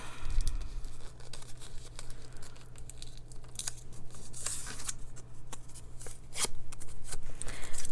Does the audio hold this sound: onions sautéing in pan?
no